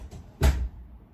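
A single dull door thud lands nearby, a short low bump of an indoor door opening or closing, with quiet room tone around it and no talk.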